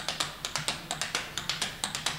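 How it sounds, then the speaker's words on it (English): Tap dancer on a wooden floor doing a three-sounded walking step, crisp metallic taps falling in quick repeating groups of three, close and alone. "And the three sounds sound like this."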